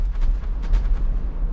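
Pirate ship cannon fire in the naval video game Windrose, a dense rumbling barrage of booming shots rolling on continuously with no talk over it.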